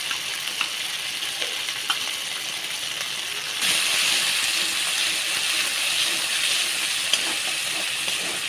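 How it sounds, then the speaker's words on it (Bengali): A coriander and cumin paste frying with dried chilli paste in hot oil gives a steady, close sizzle. It grows louder and brighter partway through as more paste hits the pan. "ধনে আর জিরে বাটা এটা একটু ভালো করে ভেজে নেব আর এবারে দিয়ে দিচ্ছি শুকনো লঙ্কা বাটা"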